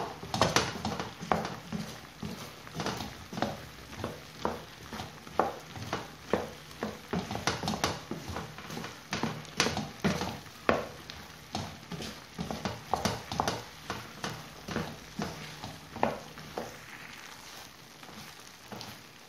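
Sugar-coated kaokao peanuts stirred in a pan, producing a steady run of rattling, scraping clicks and gritty patter as the coated nuts tumble against the metal, close and moderately loud with no talking.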